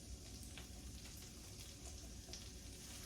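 Cauliflower pieces sizzle and crackle steadily as they fry in a pan for a curry, a dense, even hiss that stays constant and fairly quiet throughout, with no voices.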